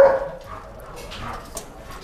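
Belgian Malinois stud dogs at a kennel give a loud yelp at the start, then scattered fainter barks and whimpers sound in a noisy yard.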